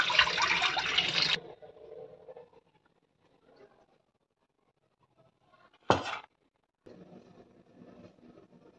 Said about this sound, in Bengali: আর মাছগুলো থেকে জলটা ফেলে দিয়ে নিই।